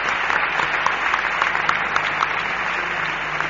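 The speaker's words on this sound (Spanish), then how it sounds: "Y con un aplauso, por favor." Audience applause at an evening event on mysteries in Úbeda, a dense steady clapping crowd sustained throughout at fairly loud level, with no voices standing out.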